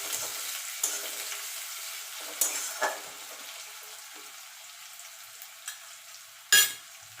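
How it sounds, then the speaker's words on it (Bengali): Chopped onions with garlic frying in a pan, a soft low sizzle under quiet stirring, with occasional sharp spatula clinks and scrapes against the pan, one louder knock near the end. "পেঁয়াজটা একটু গোল্ডেন কালার করে ভেজে নেব।"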